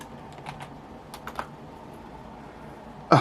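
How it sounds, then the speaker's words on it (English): A computer keyboard typed one-handed while logging in on a new computer monitor setup gives a few scattered soft key taps, faint and irregular, with a louder clack near the end and no talking. "Typing one hand is kind of difficult."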